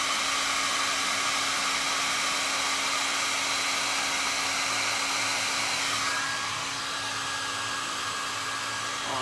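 Hair dryer blowing steadily on a painted MDF jewelry box, a continuous loud whirring roar that drops slightly in pitch and level about two-thirds through, with no talk.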